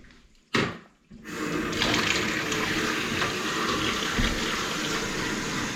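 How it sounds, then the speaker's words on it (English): Water rushes loudly and continuously down a waste pipe during a leak test, after a brief clunk and a burst of splashing, a steady close drainage flow. "we'll get plenty of water down the waste."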